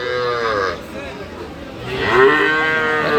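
A cow lets out two loud, drawn-out moos close by at a cattle market, with a brief pause between them and a faint crowd murmur behind.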